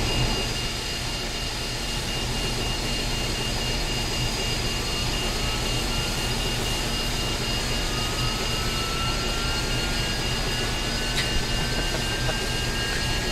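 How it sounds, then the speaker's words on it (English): Steady jet engine roar as the tail-mounted number two engine of an MD-11 spools up in a flight simulator, a constant broadband rumble with a faint rising whine running underneath throughout, no voices. "So starting engine number 2."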